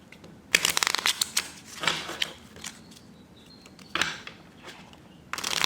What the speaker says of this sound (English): now we are going to shuffle it and deal it for the second time.